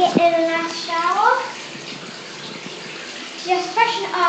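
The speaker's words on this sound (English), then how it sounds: "So now I'm going to get in a nice shower," A shower runs with a steady hiss of spraying water in a bathroom during a night-time routine, while a person talks over it near the start and end.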